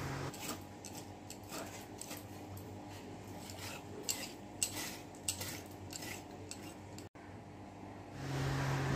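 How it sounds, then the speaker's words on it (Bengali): Metal spoon scraping and clinking against the inside of a watermelon rind, a run of soft, irregular scrapes and taps, close and fairly quiet, with faint background hum and no talking. "তো তরমুজটা ভালো করে আমি চামচ দিয়ে এই যে ভিতরটা পরিষ্কার করে নিচ্ছি"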